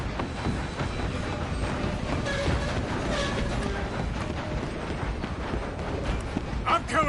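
A train rumbles steadily in the Red Dead Redemption 2 game, a dense continuous rolling clatter of rail noise mixed with hoofbeats and other action, with voices speaking over it at times.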